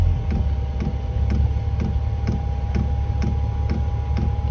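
Regular ticking from a diesel heater pump, about two clicks per second, like a clock, over a steady low mechanical hum; no talking.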